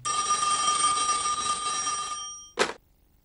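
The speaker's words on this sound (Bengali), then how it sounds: "এখন আবার কে ফোন করলো?" An old-style telephone bell rings continuously for about two seconds, bright and fairly close, then cuts off, followed by a short clunk and silence.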